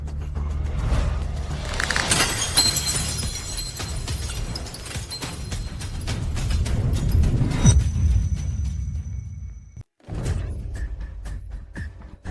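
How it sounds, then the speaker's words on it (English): A drinking glass suddenly shattering in a dramatic scene: a sharp crash scatters bright, tinkling fragments over a low rumbling background, then settles into fading clinks after a brief silence. "A perfectly good glass. How did it suddenly shatter?"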